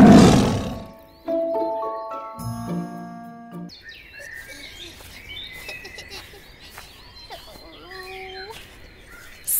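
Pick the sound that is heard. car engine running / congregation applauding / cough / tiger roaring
tiger roaring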